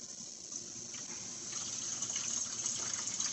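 Fluid pours into the coolant overflow reservoir of a 2015 Chrysler Town & Country, a steady gurgling, splashing stream that grows slightly louder and fuller as the pour continues, close up with no talk.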